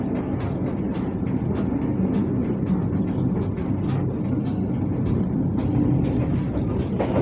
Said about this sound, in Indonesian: Ini baru pertama kali saya naik kereta api the real kereta eksekutif.